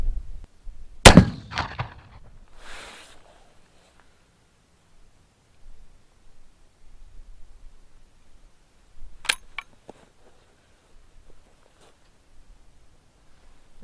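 A Martini Henry rifle fires a single sharp, loud report near the start, followed by a fading echo, with fainter clanks and handling noises later.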